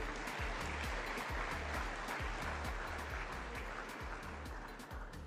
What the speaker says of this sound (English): So let's get a round of applause for CGA Limited.